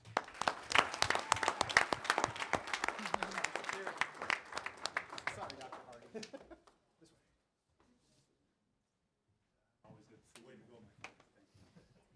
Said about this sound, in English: Please join me in applauding these outstanding students for their dedication